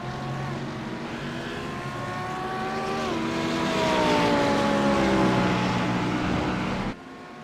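Race cars, including an Audi, scream around the Daytona track in a racing video game, their engine notes rising and falling in pitch as they pass and change gear, loud and close without commentary.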